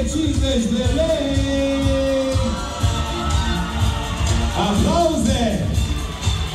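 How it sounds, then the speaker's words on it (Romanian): Crowd at an award ceremony cheering and clapping loudly and continuously after a Best Solo prize is announced, with shouts and children's voices mixed in and a person speaking over the noise. "Aplauze!"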